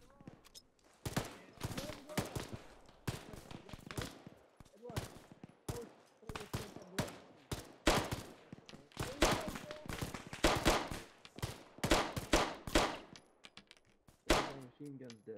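Machine gun fire in the Arma 3 video game during a firefight with Russian VDV forces, loud sharp bursts and rapid volleys repeating across the scene with a few quieter gaps, voices occasionally speaking underneath.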